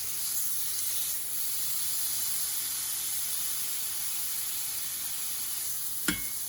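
Steak seared in a cast iron skillet makes a soft, even hiss that holds steady from start to finish, broken by one sharp click near the end.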